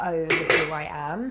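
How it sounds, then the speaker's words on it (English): A couple of sharp metallic clanks of a pot knocked against something, cutting through a person talking close by. "It's the sound of a pot."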